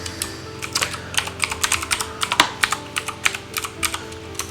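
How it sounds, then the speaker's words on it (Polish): Rapid, uneven keystrokes on a computer keyboard as a Linux terminal command is typed during Pi-hole ad blocker setup on Ubuntu, close and clear with short bursts and no voices. "wpisujemy komendę sudo apt"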